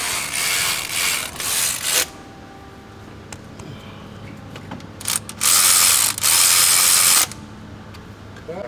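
A ratchet tightens the front rail bolts with a triple square 10 bit during timing chain work on a 2017 Jetta GLI, giving two bursts of rapid clicking separated by a quieter pause, with no talk.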